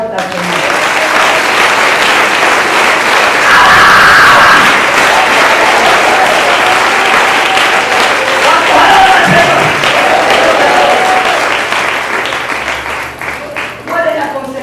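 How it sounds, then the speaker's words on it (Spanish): A church congregation claps loudly and continuously for about fourteen seconds, a dense wash of applause that swells in the middle and fades toward the end, with voices faintly mixed in. "Un aplauso fuerte al Señor."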